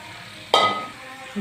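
Marinated chicken dropped into hot oil in a pan for chicken kosha, a sudden loud burst of sizzling that quickly settles into a softer, fading hiss, followed by a faint clink.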